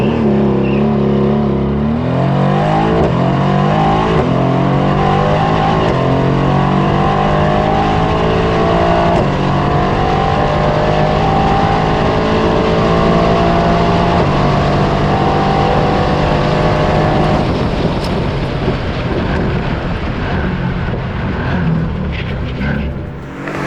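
577 hp 2020 Mercedes-AMG GT R on a half-mile acceleration run, a loud engine roaring up through the gears with rising pitch sweeps and brief shift breaks, sustained and close for over twenty seconds.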